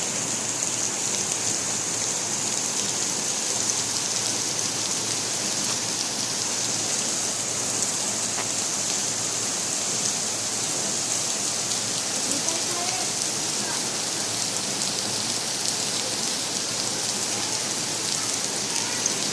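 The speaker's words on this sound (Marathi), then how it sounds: "पाऊस आला पाऊस" Heavy monsoon rain in Mumbai pours down in a dense, steady hiss, drumming on surfaces without a break throughout.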